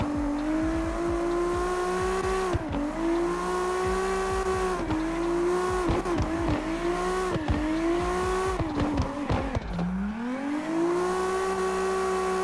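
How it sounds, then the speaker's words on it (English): Nissan GT-R Godzilla drift car in CarX Drift Racing, its engine revving high and holding, dropping on each shift then climbing again, with tire squeal and repeated rev swings, loud and close. "Let's listen to that engine."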